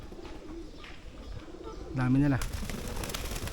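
Pigeons coo once in a low, throaty, rolling call amid outdoor bustle at a zoo and safari park, with people talking nearby.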